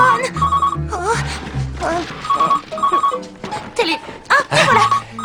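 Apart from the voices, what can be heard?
telephone bell ringing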